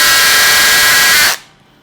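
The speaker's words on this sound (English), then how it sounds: "I think the Milwaukee was spinning at full speed." A Milwaukee cordless drill spins at full speed with a loud, steady, high whir that cuts off abruptly after about a second and a half, leaving near silence.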